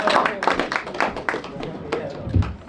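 A comedy club audience applauds a comedian walking on, with scattered claps under a host's voice and the clapping fading over a few seconds.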